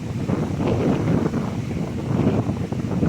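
Wind buffets the microphone on a beach in Rompin, Pahang, in a constant, rumbling roar, steady and loud for the whole stretch with no voices.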